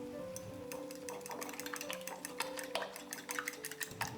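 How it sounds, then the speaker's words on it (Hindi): Two eggs beaten in a bowl for chicken bread patties, a quick steady run of light clicking and scraping strokes with small metallic pings, close and continuous, no talking. "एक बाउल में 2 अंडे तोड़ लेते हैं और इसे अच्छी तरह फेंट लेते हैं।"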